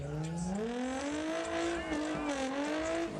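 A gray late-1990s Volkswagen GTI doing a burnout against a wall, its engine droning and rising in pitch with tire squeal underneath, continuous and fairly close.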